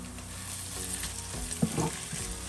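Onions fry in oil with ginger and garlic paste for a chicken dish, giving a continuous close sizzle broken by a few louder stirring scrapes partway through, with no voices.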